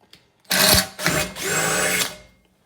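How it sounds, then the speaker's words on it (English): A power drill bores holes through the metal charcoal hopper of a Masterbuilt Gravity Series charcoal grill, with a short whir followed by a longer steady burst of drilling, close and loud. "we're just drilling one hole per side"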